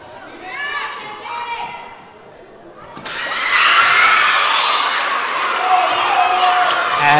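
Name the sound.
enthusiastic crowd roaring in Barton Gymnasium at volleyball game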